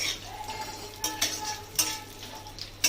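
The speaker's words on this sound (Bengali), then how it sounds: "এলাচগুলোকে তেলে দিয়ে এবার হালকা করে ভাজতে হবে।" Cardamom pods and nuts frying gently in oil in a pan while cooking kofta curry, with a soft steady sizzle and a few light clinks and scrapes of a spoon against the pan.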